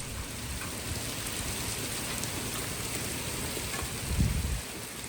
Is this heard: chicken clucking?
no